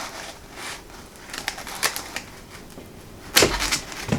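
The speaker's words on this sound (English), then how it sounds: "I'm going to go ahead and finish it up with the scissors." Scissors cutting material for a DIY bucket composting toilet and toilet paper holder, with a series of short irregular snips and crisp clicks, close up, ending in a louder sharp cut.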